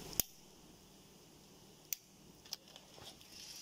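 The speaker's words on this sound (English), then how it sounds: "we're just going to clip off the ends" Cutters snip off wire ends during a temperature sensor replacement on a Hill Pumps EC-3000 compressor: three or four sharp, separate clicks over a quiet background.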